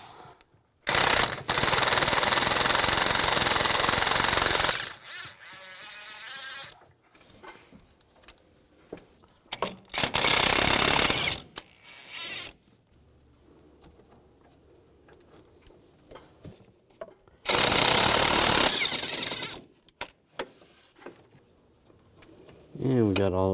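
Nuts coming off a Cadillac Escalade front shock absorber with an 18mm socket: loud rattling bursts of an impact wrench in three separate runs, with quieter clinks and handling noise between.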